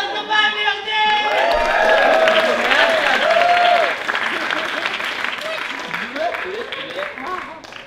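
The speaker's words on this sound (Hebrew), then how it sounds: "מחיאות כפיים לירדן!" An audience claps and cheers for Yarden at a circus show, a loud sustained burst of applause that holds steady before gradually thinning out.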